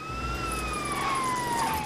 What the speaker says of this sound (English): There we go, we've got the sirens on, so we can get past everyone.